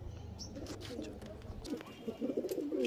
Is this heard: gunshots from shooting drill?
no